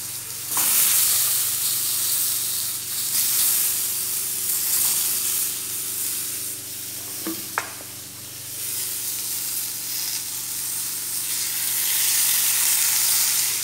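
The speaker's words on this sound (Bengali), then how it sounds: "গাজর আর বেগুন ভাজবো ডিমের সাথে" Carrot and eggplant with egg frying in a pan, giving a loud, steady hiss of sizzling oil that holds throughout, with a couple of faint stirring knocks.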